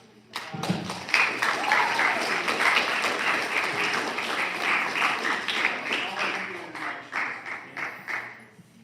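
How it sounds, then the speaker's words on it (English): A crowd of eighth-grade students at a school assembly bursts into sustained applause, dense clapping close and loud that gradually thins toward the end. "let's give a round of applause."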